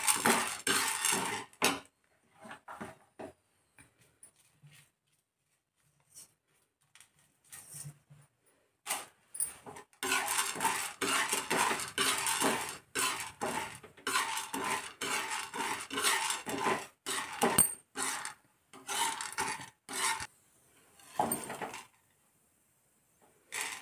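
Dal and chana dry-roasting in a pan over a medium gas flame, with a spatula or spoon scraping and clinking against the metal in busy bursts, broken by short quiet gaps.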